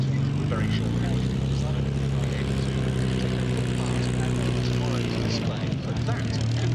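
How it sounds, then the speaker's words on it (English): A Hawker Hurricane comes in to land at the Duxford Battle of Britain Airshow. Its piston engine drones steadily with strong harmonics and sinks in pitch as it passes near the end, with a commentator's voice over it. "we're going to be bringing that Thorpe Hurricane into land very shortly"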